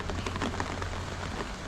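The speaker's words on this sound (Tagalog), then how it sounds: "Naabutan tayo dito ng ano, ulan." Rain pouring steadily onto a sloped house roof, a dense, close, continuous patter with scattered louder drops and no talking.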